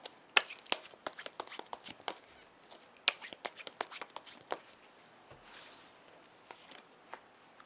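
Tarot cards being shuffled by hand: a rapid run of crisp riffling snaps and soft slides at close range, irregular flurries that thin out toward the end, with no voices.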